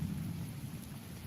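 Thunderstorm with rain playing back from a video, a steady, dense hiss of rainfall with a low rumble of thunder underneath, moderately loud and continuous throughout with no talking.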